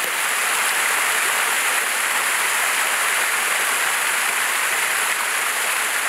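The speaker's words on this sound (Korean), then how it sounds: "저 물 흐르는 거 소리 들리지?" Stream water rushes steadily at a countryside retreat, a loud, even, continuous wash that holds unchanged from start to finish with no voices over it.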